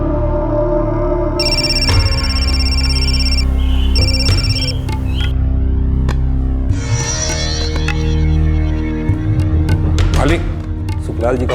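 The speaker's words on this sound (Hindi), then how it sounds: "मालिक, सुखलाल जी का फोन है" A telephone rings in a Hindi crime drama, bursts of electronic ringing repeating over background music and hum before a voice answers.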